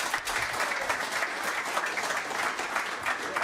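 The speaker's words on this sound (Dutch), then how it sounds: "Je hebt applaus." A studio audience on a Dutch television show gives dense, steady applause, a continuous even wash of many clapping hands with no pauses, moderately loud and without voices.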